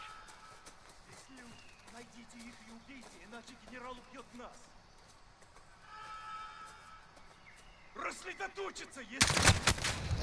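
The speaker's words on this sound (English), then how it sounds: "whenever I shot my weapon, I had actually held the trigger button in" A weapon fires in the Modern Warfare video game. Voices and scattered game noise come first, then a loud, dense burst of rapid gunfire erupts near the end.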